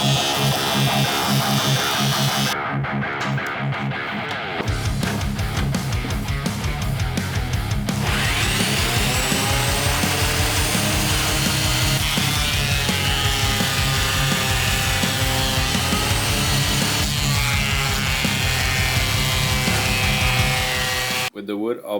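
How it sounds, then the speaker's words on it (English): A thickness planer runs steadily through recycled wood, a loud continuous machine whine and roar with a brief lighter motor start before the planer spins up and holds a constant drone to the end. "I start by planing the wood to an even thickness."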